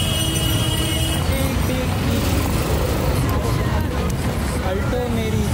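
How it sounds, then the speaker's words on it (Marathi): Busy street traffic in crowded Chandrapur on New Year's Eve, 31 December 2024, a constant dense roar of engines and passing vehicles with faint horn-like tones, loud and close, while someone talks over it. "गाड्याचा खूप आवाज येत असं."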